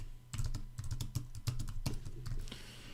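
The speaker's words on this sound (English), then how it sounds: "And now I can start typing something into that element." Rapid typing on a computer keyboard while entering text into a web input field, a quick irregular run of close, crisp key clicks with no speech.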